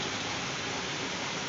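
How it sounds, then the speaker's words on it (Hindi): Indoor room noise from a ceiling fan, an air cooler and an exhaust fan running together, a steady, even whooshing hum with no other sounds. "यहाँ पे एक्चुअली अंदर आवाज़ ज़्यादा आती है, पंखे की आवाज़ ज़्यादा आती है,"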